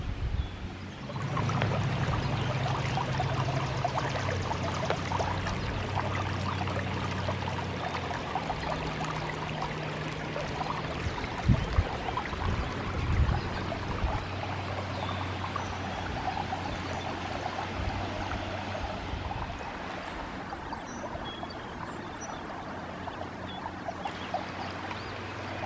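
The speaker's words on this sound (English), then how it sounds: "There's a sweet little spring feeding into the creek." Clear spring water trickling and pouring steadily into a creek beside a hiking trail, a continuous close wash of flowing water with no talk.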